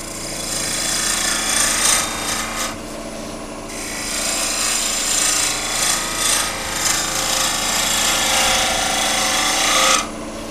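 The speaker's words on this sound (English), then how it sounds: "I'm just going to roll a bead over here." A gouge cuts a bead into a wooden log vase spinning on a lathe, making a continuous loud, close rasping scrape with brief dips as the tool lifts off, over the motor's steady hum.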